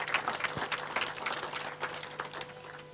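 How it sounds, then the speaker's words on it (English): Applause from an audience at a launch event, a moderate spread of many hands clapping with a steady, dense patter for the whole few seconds, heard at some distance. "A better round of applause to Honorable David Osiani."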